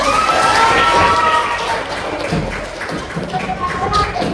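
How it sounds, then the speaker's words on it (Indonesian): Children in an Islamic religious education class clap hands together in a brief, fairly loud burst, mixed with excited voices and shouting, before the clapping fades under continued chatter. "Tepuk tangan dulu."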